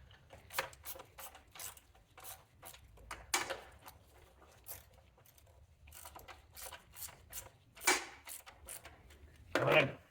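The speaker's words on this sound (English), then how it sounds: "and then we tighten our two bolts in here" A ratchet wrench tightens the two battery hold-down clamp bolts on a 2014-2024 Mercedes-Benz Vito W447, giving quick runs of close clicking that stop and restart several times, with a voice heard faintly now and then.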